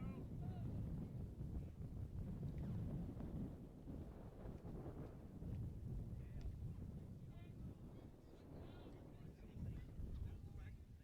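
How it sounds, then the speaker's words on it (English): Wind buffets the microphone at an outdoor high school baseball game in Nebraska, a steady loud low rumble that fills the whole stretch without letup. "The wind's picking up again."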